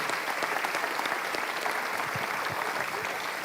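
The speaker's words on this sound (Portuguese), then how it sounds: "Vamos aplaudir ao Senhor" Church congregation applauding during an evangelical service, continuous steady clapping of many hands at a moderate, somewhat distant level.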